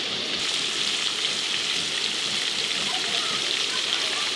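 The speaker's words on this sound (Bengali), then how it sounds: "মাছগুলো একটু ভালো করে ভাজা হতে থাক" Hilsa fish pieces coated in turmeric frying in oil in a pan, giving a steady, dense sizzle and crackle that runs without a break throughout, close and moderately loud.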